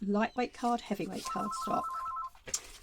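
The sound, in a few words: telephone ringing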